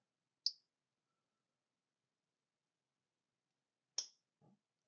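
Rosecraft traditional-style folding knife blade closing, a sharp metallic click, a pause, then a second click at the half stop followed by a soft final snap shut, faint and close.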